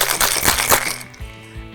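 Ice rattles hard inside a cocktail shaker during the mixing of a blueberry lemon drop, a fast rhythmic clatter for about a second before it stops and leaves a quieter tonal background.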